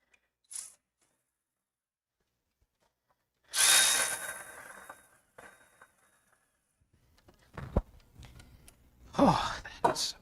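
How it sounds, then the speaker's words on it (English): A power tool whirs in a short loud burst while the alternator comes off a Ford Fairmont, followed by scattered clanks and a few grunts and sighs from a person nearby. "I was taking the alternator off."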